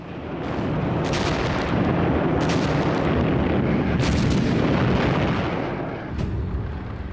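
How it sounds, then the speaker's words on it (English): Savage artillery bombardment of German positions, dense continuous rumbling blasts with sharper cracks standing out, loud and sustained with no voices. "The attack on the German positions started with a savage 65-minute bombardment."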